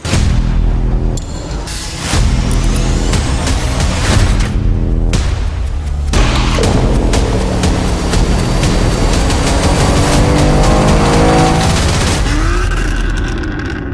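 BMW G87 M2 with an MMR tuning box running on a dyno: a loud, sustained engine roar that climbs steadily in pitch through hard pulls, broken by brief shifts and crackling pops, close and continuous with no talking.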